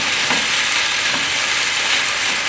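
Beef sizzles and crackles in a ginger and garlic stir fry, a dense, steady frying hiss over high heat with faint stirring bumps underneath and no voices.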